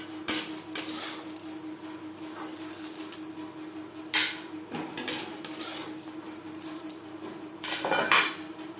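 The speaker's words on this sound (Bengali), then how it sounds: "বড়ি ভাজা হয়ে গেছে, একটা পাত্রে উঠিয়ে নেব।" Fried lentil dumplings being moved from a wok into a bowl, with scattered metallic clinks and scrapes of utensils against the pan and a few sharper knocks, close and fairly quiet, with no talk.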